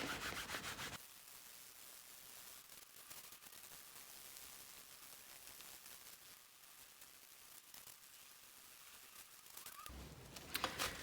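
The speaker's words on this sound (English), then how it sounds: "I've been rubbing for a couple of minutes" Wet felt wool rubbed by hand while making a phone case, a steady soft hiss of continuous rubbing that runs close and even for most of the stretch, with slightly louder handling at the start and end.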